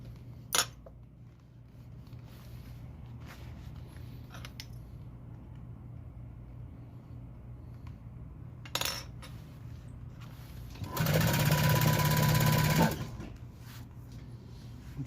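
A sewing machine topstitches the facing to the shell of a leather jacket in one steady burst of about two seconds, after a long stretch of quiet room tone with a few faint clicks and taps.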